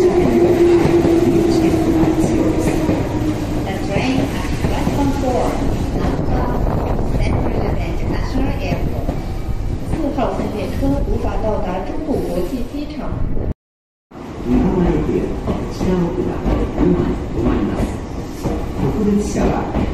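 A train rumbles loudly past a platform at Meitetsu Kanayama Station, its roar filling the scene with rattling and wind noise, briefly cutting out before continuing.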